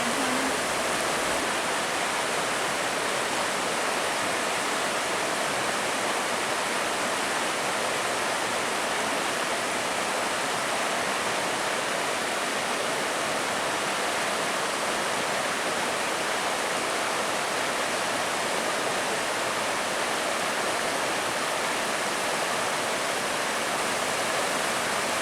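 A mountain waterfall and stream in the Smoky Mountains pour over moss-covered rocks, making a loud, steady, broadband rushing that holds without a break throughout.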